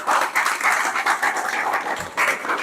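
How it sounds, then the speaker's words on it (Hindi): Students in a coaching class clap together in a lively burst of applause, dense and close, with a brief dip partway before the clapping picks up again. "इसके लिए तालियां बजाओ।"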